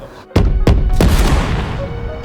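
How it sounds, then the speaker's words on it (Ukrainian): Heavy, booming thumps land one after another, three big hits with a long rumbling tail, loud and close, sounding like drum hits or distant cannon fire. "Цей барабан, який з ритмом таким бух-бух-бух-бух, це схоже на те, як стріляє, мабуть, танк"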